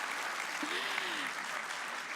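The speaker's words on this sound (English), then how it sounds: "You can clap, go ahead." Applause from an audience at a tech conference session, a steady wash of clapping at moderate level with a faint voice sliding through briefly.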